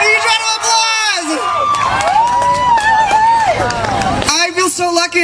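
A crowd cheers and shouts loudly at an LGBT Heritage Month event at Los Angeles City Hall, with excited whoops and high children's voices mixed into a dense roar, and a brief dip before the noise surges again.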